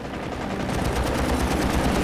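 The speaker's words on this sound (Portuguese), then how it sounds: "rajadas de tiros de metralhadoras e canhões" Aircraft machine guns and cannons fire in rapid bursts during WWII air combat involving P-51 fighters, a dense, loud rattle of rapid shots over heavy engine drone.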